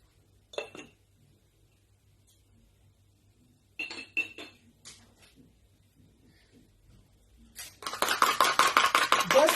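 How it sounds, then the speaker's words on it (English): Egg white and salt whisked briskly in a bowl, a fast run of close, bright clinking taps at the end after a few short scrapes and pauses. "Just whisk, as you can see"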